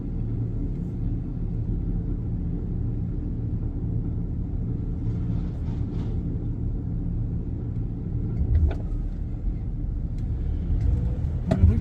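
Steady low road rumble from a car driving through Gainesville, Georgia traffic, a continuous engine and tyre drone with a couple of brief louder thumps near the end and no talking.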